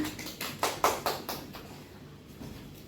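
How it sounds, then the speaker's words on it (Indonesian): Scattered hand clapping in a primary school classroom, a handful of sharp claps bunched together in the first second, then thinning into a few softer, sparse claps as it fades. "Kasih tepuk tangan."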